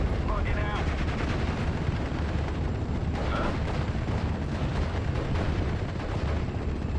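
Flak 88 and ground forces firing in Steel Division: Normandy 44, a dense run of loud gunshots and booming artillery over continuous battle noise.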